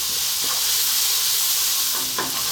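Onions, garlic and dried oregano fry over fairly lively heat in a pan, giving a steady, close sizzle and hiss with faint scrapes of stirring.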